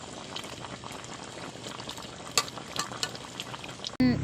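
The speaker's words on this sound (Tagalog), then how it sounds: "Kaunting kulo pa guys, yung maluto kaunti yung malunggay." Ginataang kalabasa, squash simmered in coconut milk with malunggay leaves, bubbles steadily in a cooking pot. The boiling is close and continuous, with a few sharper pops and a brief clank right at the end.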